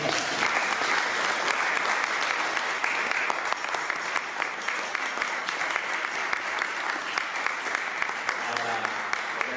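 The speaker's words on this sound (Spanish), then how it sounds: "Un aplauso." An audience at a town hall award ceremony in Jarandilla de la Vera applauding as the Escobón de Oro prize is presented, sustained loud crowd clapping that stays even and full for the whole stretch.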